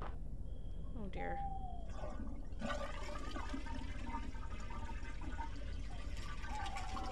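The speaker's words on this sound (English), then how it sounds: "Because every game needs toilet mechanics and toilet sounds." A toilet flushing in the video game Lea, with a loud rushing surge of water that swirls and drains away, preceded by short game sounds.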